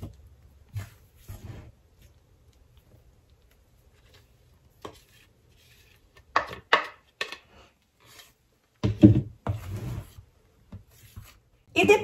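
Carrot cake batter is stirred into sifted flour in a bowl. Soft scrapes and knocks of the spoon come in scattered bursts, louder toward the middle and end, separated by near silence.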